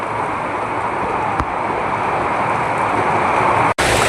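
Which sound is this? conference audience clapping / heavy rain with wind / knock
heavy rain with wind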